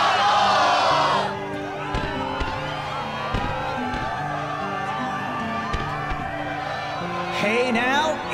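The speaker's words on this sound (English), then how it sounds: "the crowd is fired up, so you know what comes next." A crowd cheers in the Kingdom Hearts 2 Final Mix video game, a loud roar at the start that settles into a steady murmur under background music and speech, then rises again near the end.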